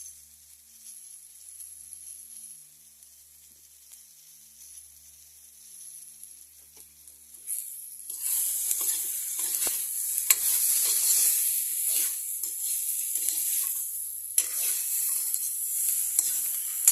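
Potatoes and brinjal sizzle and fry in a pan, quiet at first, then a bright, crackling sizzle swells up and keeps going close by, with occasional sharp pops and no voices.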